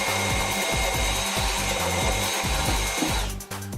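A power tool bores holes into solid wood parts for a gaming desk, a loud, steady grinding drone with rhythmic low pulses as the bit cuts, running continuously and close up.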